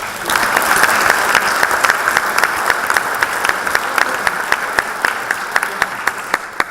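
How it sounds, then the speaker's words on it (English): An audience at a city officials' swearing-in ceremony applauds a high school choir: loud, dense clapping that thins toward the end, with individual sharp claps becoming distinct as it fades. "We need to give them a round of applause."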